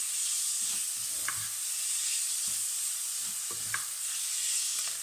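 Smoked bacon frying in a pan, a soft steady sizzle with a few faint utensil scrapes as it is stirred, quiet and close.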